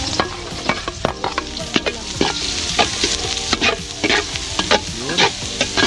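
Garlic, onion and ginger sautéing in hot oil, a constant sizzle punctuated by repeated sharp scrapes and clinks of a utensil stirring the pan, close and loud.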